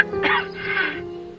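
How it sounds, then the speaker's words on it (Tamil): A woman coughs in a cold, snowy setting, a close, loud pair of rough, harsh coughs that ends in a fading breath. "என்னம்மா இருமுறீங்க? உடம்புக்கு என்னாச்சு?"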